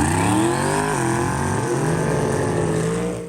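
A no-prep small tire drag racing car's engine revs loudly and close by, a rough, powerful roar that swells, holds steady, then begins to fade.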